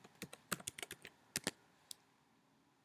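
Keys on a computer keyboard clack as code is typed in quick uneven bursts of crisp, close taps, then a pause and one final keystroke, with no speech.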